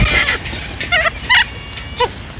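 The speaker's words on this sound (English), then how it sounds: "So that's the birds, the roos, whatever else I have in here." Pet birds calling inside a room, several short honking, gobbling squawks in quick succession, loud and close against a steady background hum.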